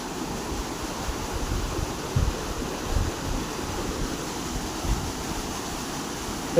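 Water pours steadily through the DVC canal lock gate at Pandua, Hooghly, a continuous broad rushing roar with slight surges, heard close and alone.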